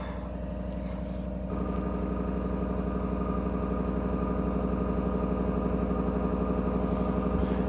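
A 2022 Ram 1500 pickup with the 5.7 V8 idles steadily after a cold start at about minus 24 Celsius, unplugged overnight and unstarted for a week. The engine note steps up slightly early on, then holds a constant, near, even rumble.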